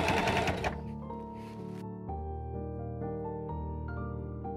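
A sewing machine top-stitches a skirt waistband, a steady mechanical whir running close after a brief burst of louder rattling at the start.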